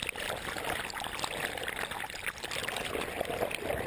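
Water flows steadily with a continuous rushing, burbling wash that stays even throughout, with no voices.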